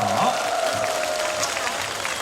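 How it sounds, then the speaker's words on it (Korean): Audience applause at an outdoor stage during the Hongcheon ginseng and Hanwoo beef festival, a dense steady wash of clapping from a large crowd lasting the whole moment, with a faint tonal ring and scattered voices mixed in. "여러분들 다시 한 번 큰 박수 부탁드립니다."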